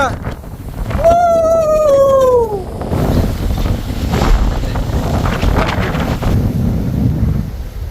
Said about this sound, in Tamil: நல்லா காற்று தள்ளுது, பிச்சு விடுது.